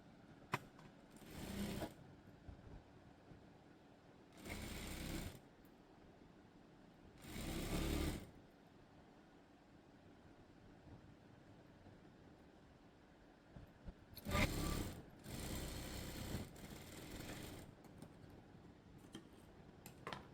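A sewing machine stitches the folded edge of a school uniform top in short separate bursts of rapid whirring, five or six runs with quiet pauses between them, close by and fairly soft.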